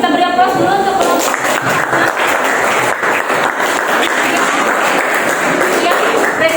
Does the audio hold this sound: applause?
yes